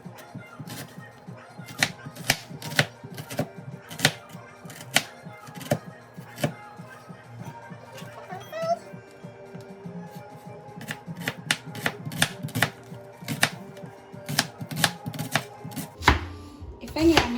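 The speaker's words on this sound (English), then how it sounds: "I am going to slice it into half moon shapes." A knife slices a red onion into half-moon shapes on a board, making a long run of crisp, close chopping taps that come in quick bursts with brief pauses between them, and no one speaks.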